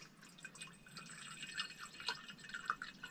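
Water trickles and drips faintly from an RKIN zero-installation countertop RO water purifier into a container, a soft, uneven stream of small splashes heard close up.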